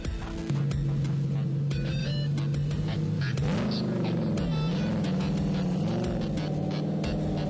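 A Ford Cobra concept car idles with a steady low engine hum, then its engine note rises and wavers as it pulls away onto the track, loud and close throughout.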